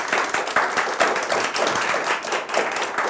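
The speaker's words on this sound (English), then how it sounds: "So a round of applause for our panelists up on stage." Audience applause for panelists on stage at a live arts show, steady dense clapping from a crowd filling the whole stretch at close range.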